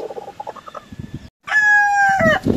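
Peruvian-line gamefowl rooster crowing loudly up close, a long strained cock-a-doodle-doo following a few short clucks.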